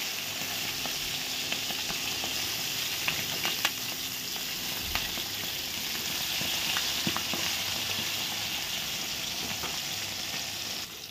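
Bata fish frying in oil in a pan, three at a time, giving a continuous close sizzle with occasional spitting pops and soft stirring clicks, no talking.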